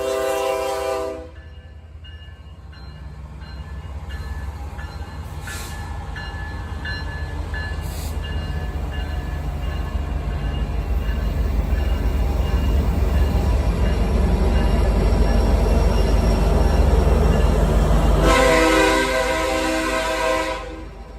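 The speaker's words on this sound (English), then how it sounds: "such as this ballast train that is transporting ballast to different places" A ballast train hauling ballast rolls past with a steady, building rumble of wheels and wagons, framed by a loud horn blast at the start and another near the end.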